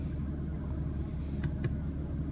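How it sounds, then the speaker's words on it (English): A 2016 BMW M3 sedan's engine idling with a steady low rumble close by, briefly lifted by quick throttle blips near the end. "And here's the engine response."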